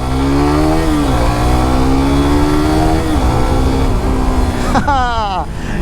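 A Suzuki GSXR150 motorcycle accelerates hard along a road, its engine note climbing through rising harmonics with two brief gear-change dips, then a sharper high rev burst near the end, loud and close throughout.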